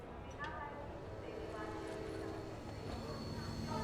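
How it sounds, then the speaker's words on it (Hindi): A passenger train bound for Lucknow rolls past at a railway line, a steady rumble with rhythmic clatter under people speaking Hindi, moderately distant and fairly quiet. "यही ट्रेन जाती है लखनऊ"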